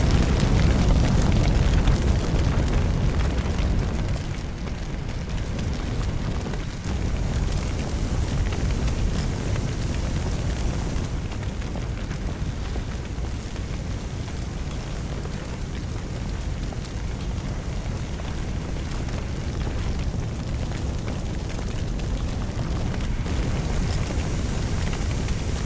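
Fire burning indoors in Firefighting Simulator, a steady, loud, broadband roar of flames that rumbles continuously for the whole stretch, easing slightly after the first few seconds, with no voices.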